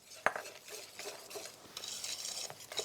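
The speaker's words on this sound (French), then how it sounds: "C'est important de fouetter énergiquement pour retirer les grumeaux." A whisk scrapes and taps against a bowl while icing sugar glaze for choux pastries is beaten, faint, close, irregular clinks and swishes with one sharp knock near the start.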